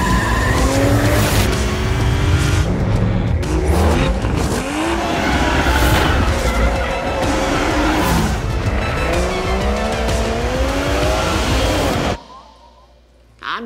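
A Toyota GR Supra tears through corners, its tires squealing and skidding loudly in repeated rising and falling screeches over a hard-revving engine, with voices speaking over the action before the sound cuts off abruptly near the end.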